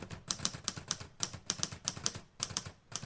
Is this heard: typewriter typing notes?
yes